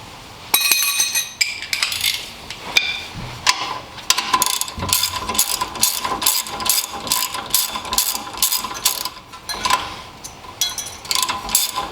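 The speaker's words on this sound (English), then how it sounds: "So loosen and remove the two 17mm screws that are holding it in." A ratchet loosens the 17mm caliper bracket bolts on the rear brakes of a 2003-2009 Toyota 4Runner. Its clicking runs in quick bursts through most of the clip, close and fairly loud, with metallic clinks between the bursts and no talk.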